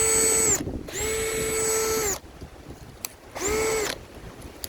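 Baur 20-volt cordless drill driving small screws: three bursts of steady high motor whine, each stopping abruptly, close and loud with short quiet gaps between.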